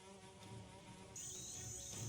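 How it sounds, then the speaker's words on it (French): Tsetse flies buzz in the African savanna with a continuous, faint insect drone of steady tones, joined midway by a high, shrill whine, and no voices. "Les mouches tsetse sont un des dangers de la savane."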